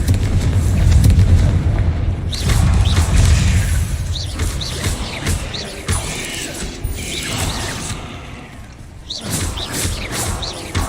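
Spell blasts from Confringo in Hogwarts Legacy destroy spider egg sacs, heavy low booms and rumbling impacts recurring several times, mixed with clattering mechanical game effects and background music, loud throughout.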